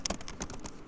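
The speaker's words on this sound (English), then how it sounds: "I will type hi." Several quick keystrokes on a computer keyboard as a short word is typed at a terminal prompt, close and fairly quiet, with no talking.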